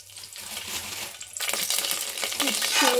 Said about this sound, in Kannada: ನಾವು ಈಗ ಇದನ್ನ ಅಲ್ಲಾಡ್ಸೋ ಕೆಲಸ ಮಾಡ್ತಾ ಇದ್ದೀವಿ ವಿಡಿಯೋ ಜೊತೆಗೆ